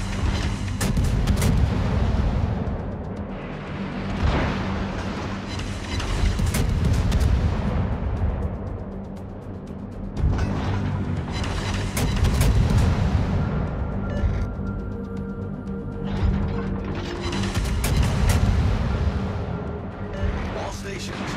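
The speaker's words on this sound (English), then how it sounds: "Concentrate fire on the enemy warship." A naval gunboat in a video game fires artillery at an enemy warship, heavy repeated booms every few seconds rolling into long rumbling decays, loud and close.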